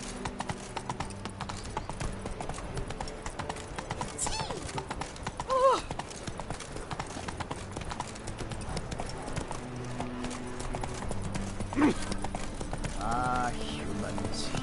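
Hooves of Roach, the horse in The Witcher 3, clip-clop at a steady walking rhythm over a game soundtrack, with a couple of louder accents partway through.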